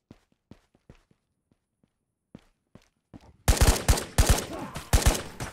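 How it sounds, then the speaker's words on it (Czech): Rapid bursts of gunfire in the VR shooter game Ghosts of Tabor erupt loudly after a stretch of quiet footsteps and small clicks, the shots coming in quick clustered volleys. "Střílí po mně někdo."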